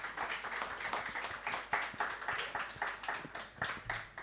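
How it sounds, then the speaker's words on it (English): A live audience claps after a reggae performance at a community arts hub, with steady, rhythmic, fairly even clapping at moderate volume throughout and no voices. "Is that the applause that you can give them?"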